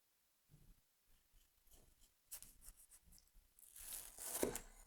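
A Rosemary knife by BPS Knives slices a tomato with firm skin, giving quiet, close tearing and crisp cutting sounds in short strokes that build toward a sharper final cut.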